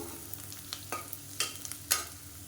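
Ginger and garlic sautéing in a pan for a varagu millet and dal kichdi, a low frying hiss broken by several sharp stirring scrapes, close and without voices.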